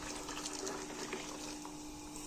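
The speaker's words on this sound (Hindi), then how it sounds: "मैं इसमें पानी और डालूँगी।" Water is poured into a cooking pot of lassi and masala for Lahori kadhi pakora, giving a soft continuous trickle and gush at low volume.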